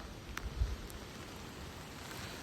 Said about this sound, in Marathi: आता पाऊस एवढं जोरात सुटला